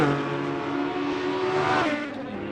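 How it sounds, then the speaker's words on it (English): A race car engine in a video game roars steadily at high revs, its pitch climbing and then dropping as it shifts, loud and continuous with no talking. "Oh, that car sounds sexy."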